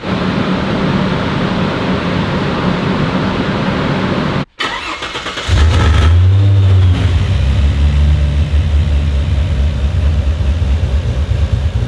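A turbocharged Holden XE car engine idles with a low rumble, cuts out briefly, then comes back louder and heavier, a deep steady drone that shakes and fills the cabin.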